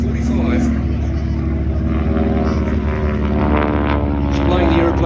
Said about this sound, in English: Up she goes, the big Pratt & Whitney, the big radial pumping away there, 600 plus horsepower